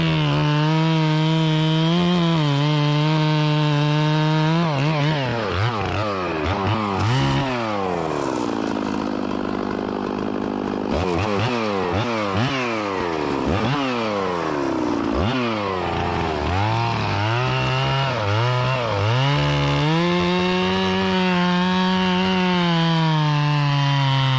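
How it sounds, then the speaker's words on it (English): Chainsaw, recently revived, cutting hinge wood while felling a tree, the engine droning loud and close throughout, with repeated revving swoops as the bar bites and the pitch dips under load, then climbs again. "We're going to cut a little bit of the hinge wood off on this side, and that'll help it roll off the stump."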